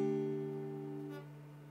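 A D-Add9 chord on an acoustic guitar, strummed once on only the first four strings and left to ring alone, sustaining clearly and slowly fading.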